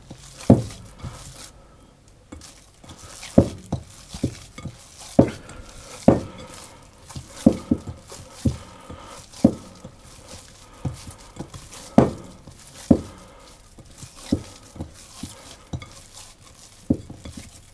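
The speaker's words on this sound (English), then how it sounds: "I'm actually going to use my hand and just knead it into a dough" Puff pastry dough for the inverse method being kneaded by hand: a series of soft, irregular thumps and squishes against a bowl or surface, repeating every second or so over a quiet background with no talking.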